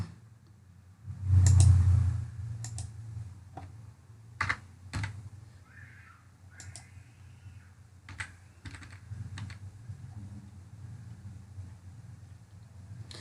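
Date of birth being tapped in on a mobile phone's on-screen keyboard: a string of sharp, close taps at uneven intervals, with a louder burst near the start and no speech.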